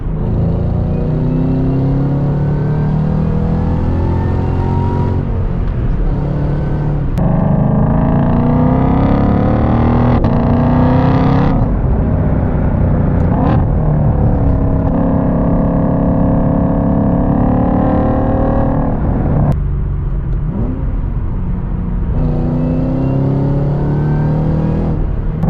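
A 2021 Shelby GT500 V8 roars loudly from inside the car as it accelerates hard, its engine pitch climbing repeatedly and breaking off at several quick gear shifts, with no talking.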